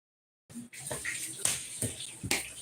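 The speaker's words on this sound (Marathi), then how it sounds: "कोण आहे पाणी उडवायला" Water splashes in a few quick, fairly quiet bursts after a moment of silence, with short irregular sloshes close by.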